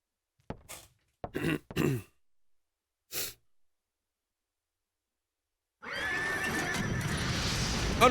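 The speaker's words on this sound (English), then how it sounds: "Oh no, the horse is on fire." A horse in the video game Parasite Eve neighs and snorts in a few short separated bursts, followed by a loud sustained whinny with crackling over it.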